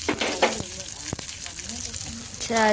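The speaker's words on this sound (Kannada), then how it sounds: "ಚಂದಾಗಿ ಫ್ರೈ ಮಾಡ್ಕೋಬೇಕ್ರಿ" Cashews and onion frying in hot oil, a steady close sizzle with a few sharp stirring clinks, while a person talks over it.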